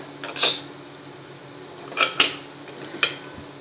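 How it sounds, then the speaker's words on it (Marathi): A pressure cooker lid being opened, heard as a few short metallic clanks and scrapes: one at the start, a quick pair near the middle and a last clink, set against a quiet kitchen. "आता आपण कुकर उघडूया।"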